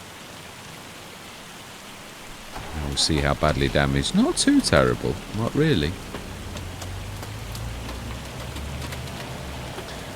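Rain falls steadily in Farming Simulator 25 on a North German farm map, a soft even hiss throughout, with someone talking over the middle of it.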